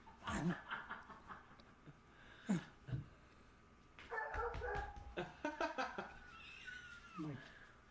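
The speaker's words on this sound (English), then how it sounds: "They sound like the dogs." Dogs barking, yipping and whimpering in short bursts and whines, fairly faint and intermittent.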